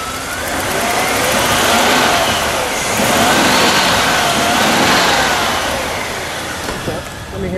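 Engine of a 1994 Bentley Continental R with a turbo, heard up front in two swelling revs that rise and fade, a smooth mid-pitched rumble close by, with a voice briefly speaking.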